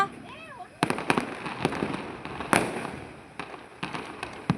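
A rapid string of sharp Diwali firecracker pops, loud and close, irregularly spaced, with voices talking in the background.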